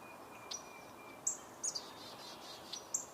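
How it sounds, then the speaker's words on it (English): American robin song in a spring woodland tour setting, heard as a few faint, distant chirped phrases over steady outdoor ambience and a soft insect-like hiss. "Hearing a robin."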